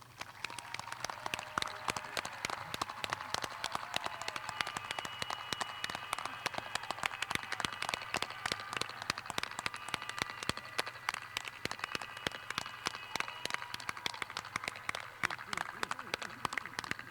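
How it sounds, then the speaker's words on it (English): A high school graduation audience claps for the North Central High Class of 2020, a steady, dense patter of many hands from a distant crowd that keeps going without pause. "Let's give these graduates a round of applause."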